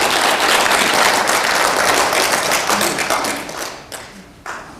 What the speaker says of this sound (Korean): 여러분한테 좀 박수라도 좀 받고 싶구나